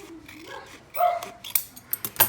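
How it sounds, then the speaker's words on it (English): Excited household dogs bark and yip up close in a small craft room, a few sharp barks building into a quick cluster toward the end, with a whiny whimper early on. "please excuse the dogs and their barking"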